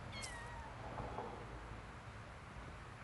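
A cat meows once faintly in overgrown persimmon bushes outdoors, a short thin call early on over steady low rumbling background noise.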